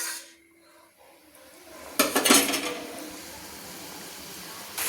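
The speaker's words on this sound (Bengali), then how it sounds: "দিয়ে ভালো করে খুন্তি দিয়ে নেড়ে নিচ্ছি" A metal spatula scrapes and stirs fish curry with potato, cauliflower and brinjal in a pan, a burst of scraping in the middle and a brief clatter at the end, close and moderately loud with no talk.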